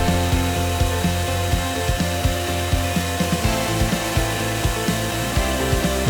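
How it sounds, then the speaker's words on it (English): Shop vacuum roaring steadily up close while sucking years of dirt and grime out of a car interior, with rhythmic bumps and scrapes as the nozzle works across surfaces. "Years of dirt and grime need to be vacuumed away."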